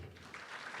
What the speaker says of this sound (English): they deserve every round of applause